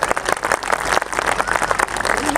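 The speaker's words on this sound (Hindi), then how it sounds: "अब एक बार जरा सम्यक तालियां बजा दीजिए" A large audience applauds steadily, dense continuous clapping filling the space for the whole stretch at a strong, even level.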